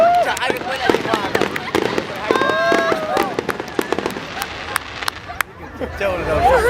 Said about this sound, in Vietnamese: nhiều pháo lạ thế nhỉ?